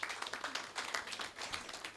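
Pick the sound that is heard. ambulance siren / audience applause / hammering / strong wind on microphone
audience applause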